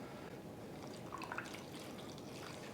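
About a quarter cup of apple cider vinegar is poured into a bowl, giving a soft, quiet trickle with a few light splashes midway and no talking over it.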